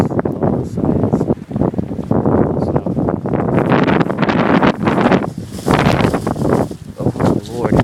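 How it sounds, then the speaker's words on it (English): Blizzard gusts drive snow sideways through a Boston neighborhood, roaring and buffeting the microphone in loud, uneven surges that barely let up. "The snow is blowing sideways."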